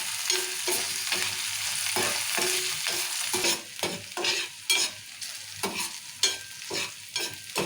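Tomato, onion and green chillies fry in oil with a steady crackling sizzle, broken by repeated spoon or spatula strokes stirring the pan, close and fairly loud.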